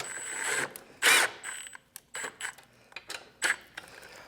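A ratchet works bolts on a radiator frame for a Yamaha T7 motorcycle, giving several quick clicking bursts with short pauses, close and fairly loud, with no talking.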